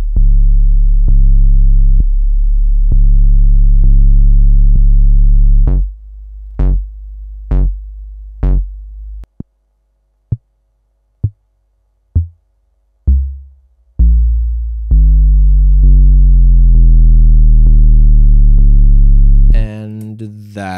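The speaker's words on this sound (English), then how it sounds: "That is the sound of the kick drum module." A DIY twin-T kick drum module for a modular synth is triggered by a clock while its controls are turned. It gives loud, booming electronic thumps whose decay and pitch shift from long droning tones to short, spaced hits.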